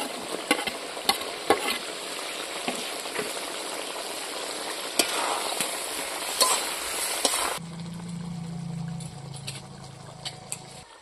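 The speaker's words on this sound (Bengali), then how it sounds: "বন্ধুরা জলটা ফুটে গেছে কালিয়ার, এখন আমি মাছটা দিয়ে দিচ্ছি।" Fish goes into a pot of boiling curry water for Bengali fish kalia with cauliflower: a steady bubbling, hissing roar with occasional clinks, then a lower, calmer simmer after the pieces drop in.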